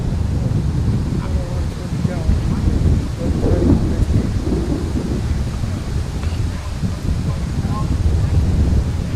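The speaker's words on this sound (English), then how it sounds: "Wind feels like it's still part of that storm that came through the area last night" Strong wind left over from a passing storm blows across a baseball field, a constant heavy rumbling roar of gusts buffeting the microphone for the whole stretch, with a faint voice beneath.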